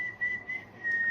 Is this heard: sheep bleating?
no